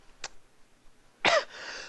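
A man coughs twice, a short faint cough followed by a louder, harsher cough with a raspy tail, close up and with no talking over it.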